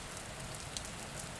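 Steady rain falling in the Star Stable Online video game, a continuous soft hiss of drops at an even level with no voices.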